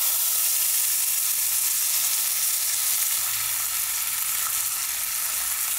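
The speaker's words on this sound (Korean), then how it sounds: "이제 고기에 마이야를 내겠습니다" Pot roast beef searing in a cast-iron Dutch oven, a loud, continuous, close sizzle with steady crackling hiss throughout and no voices.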